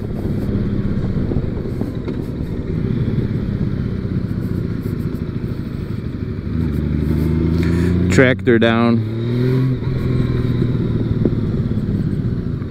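A Honda Valkyrie motorcycle's six-cylinder boxer engine drones steadily through a ride, just after an oil change, with wind rush and a brief rising engine swell midway as someone talks over it.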